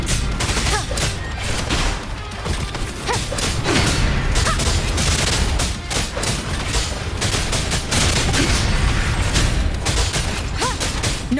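Rapid, continuous gunfire from a Wuthering Waves battle, with dense overlapping shots and booms sustained at high intensity throughout, forming a relentless fusillade.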